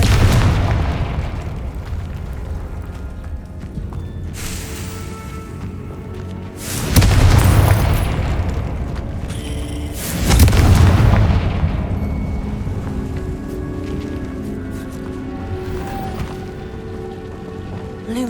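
Fire-spell explosions from Confringo in the Hogwarts Legacy video game, two heavy booming blasts several seconds apart, each rolling off into a long crackling rumble over steady ambient game noise.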